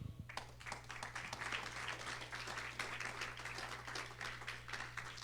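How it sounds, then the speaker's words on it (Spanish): A church congregation applauding during a Spanish-language sermon: dense, sustained clapping from many hands throughout, fairly distant and reverberant, over a low steady hum. "Vamos, dígaselo y den un aplauso al Señor."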